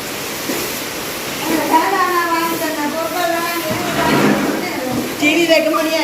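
In a Jaffna village, a downpour roars as a continuous broad hiss, loud and near, with voices, including a child's, speaking through the rain.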